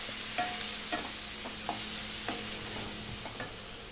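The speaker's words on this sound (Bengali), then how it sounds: "এবার এর মধ্যে দিয়ে দেবো আদা রসুন বাটা, দিয়ে মশলাটাকে ভালো করে কষিয়ে নেব।" Masala with ginger-garlic paste sautéed in a pan, a soft sizzle running under a few distinct spatula scrapes and knocks, close by with no talking.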